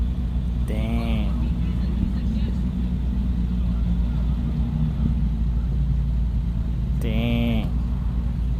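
Car engines idle and rumble at a Formula Drift cars and coffee meet, a steady low drone filling the background, with two brief higher whine or horn-like tones standing out over it.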